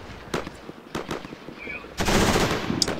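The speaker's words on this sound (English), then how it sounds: "One burst of auto cannon fire can wipe out an entire section." ZU-23 autocannon fire from the video game Combat Mission Shock Force comes as several sharp, loud bursts of rapid shots, followed by a dense sustained rattle of gunfire with echoing blasts.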